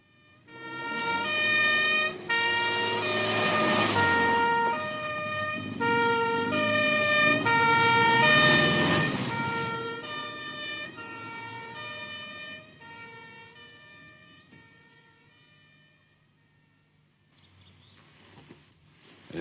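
An ambulance siren wails loud and close in a repeating two-tone pattern, swelling and fading as it passes, then trails off to near silence with a faint rumble at the end.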